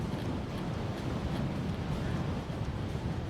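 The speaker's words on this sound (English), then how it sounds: "Very windy today" Strong wind buffeting the microphone while riding an Econic One Bandit electric bike downhill with motor assist on an urban commute, a loud, continuous rumbling roar with gusty low-end fluctuations.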